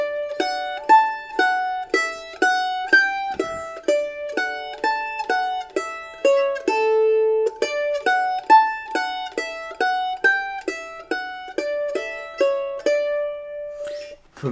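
Mandolin picks out a simple, stripped-down melody, one clear plucked note at a time with quick decays, played alone and steadily for about fourteen seconds.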